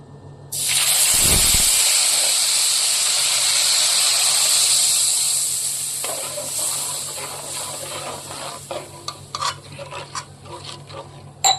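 Buttermilk poured into a hot pan of fried chicken pieces bursts into a loud, sudden sizzle that hisses steadily, then fades into crackling spits and pops, with a brief low thump near the start.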